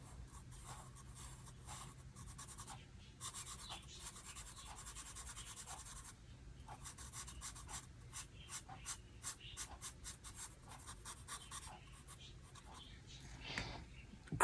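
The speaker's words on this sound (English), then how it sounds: "I'm using a marker" A marker scrubs back and forth across paper in quick, rhythmic strokes, close and clear, as a skull drawing is colored in.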